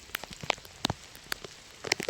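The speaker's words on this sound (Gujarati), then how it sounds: "ફૂલ વરસાદ છે" Heavy rain falls as scattered, crisp drops and patters on a surface over a faint, continuous wash, quiet and close.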